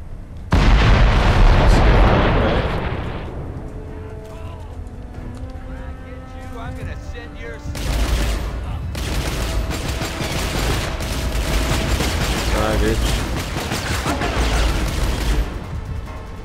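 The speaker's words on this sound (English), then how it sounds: "Grenade! Take cover!" A grenade goes off in the video game Escape from Butcher Bay, a loud booming blast followed by a lingering rumble, then a second burst of explosive noise with gunfire-like crackle.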